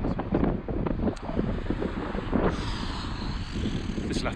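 Wind buffets a microphone outdoors on a golf course in winter, a steady rough rush with gusts, and people talk faintly underneath.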